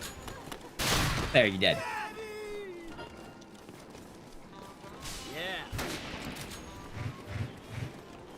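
Gunfire in a multiplayer video game comes as a few sharp shots close by, mixed with game effects and scattered thumps, while players talk loudly over the action.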